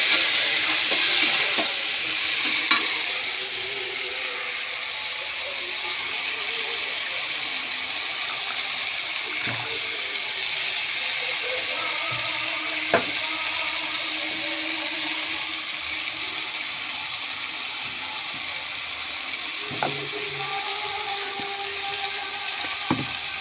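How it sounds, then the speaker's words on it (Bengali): Water pours steadily into a pan of spiced vegetable curry with drumsticks, rinsed in from the bowl that held the spice paste; a continuous close gushing splash lasting the whole clip, with a few faint clinks. "দিয়ে দেবো জল, মশলা ধোয়ার বাটিটা একটু ধুয়ে দিয়ে দিলাম,"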